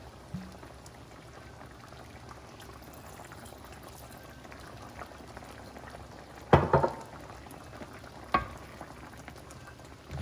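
Whiskey goes into a simmering white sauce for pasta and chicken breast, with a low steady bubbling hiss throughout, broken by a sudden splashing pour and spatter near the middle and a shorter burst after it.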